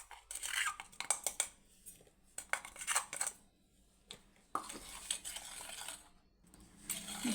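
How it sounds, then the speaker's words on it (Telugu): Powdered sugar, ground in a mixer, stirred into milk in a bowl for homemade biscuits: a spoon scrapes and clinks against the bowl in quick irregular bursts with short pauses, close and fairly loud, with no talking. "మిక్సీ పట్టిన పౌడర్ పంచదార పౌడర్ని పాలలో వేసి కలపాలి"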